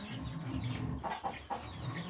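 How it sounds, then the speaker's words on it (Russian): A chicken clucks close by, a few short clucks over a low background rumble. "Всего 2 курочки."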